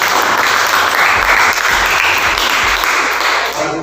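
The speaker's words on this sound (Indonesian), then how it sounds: "Dan tepuk tangan." A room of students bursts into sustained applause in a school lesson setting, a thick continuous wash of clapping with faint low thumps underneath, loud and steady throughout.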